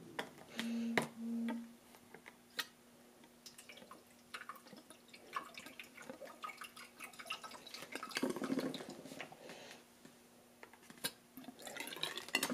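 Sparse water drips and small liquid ticks sound faintly and close while a PC water cooling loop is filled, with a low steady pump hum underneath.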